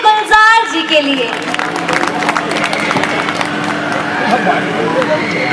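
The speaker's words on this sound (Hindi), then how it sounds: "जोरदार तालियां हो जाए धैर्य गुलजार जी के लिए" An audience at a school annual function's poetry gathering claps loudly in a dense burst that peaks at the start, then settles into sustained applause with some cheering and crowd noise.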